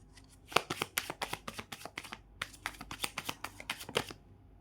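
Tarot cards being shuffled, a rapid series of crisp riffling bursts and flicks in a steady rhythm, close and clear with no talking.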